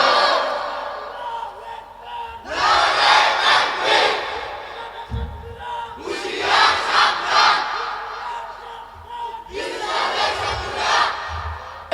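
A large crowd loudly chanting the takbir, Allahu Akbar, in three powerful bursts of roaring voices, separated by brief pauses where a single voice leads, all echoing and close.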